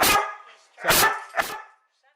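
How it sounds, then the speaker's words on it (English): Three sharp, loud dog barks close by, spaced about half a second apart, with brief silence between them. "Dog's a little loud."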